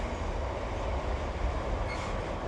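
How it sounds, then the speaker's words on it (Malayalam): A train runs beside a canal in Britain, heard as a steady, even rumble and rolling noise at moderate distance with no talking. "ട്രെയിൻ എപ്പോഴും അങ്ങോട്ടും ഇങ്ങോട്ടും ഓടിക്കൊണ്ടേയിരിക്കും"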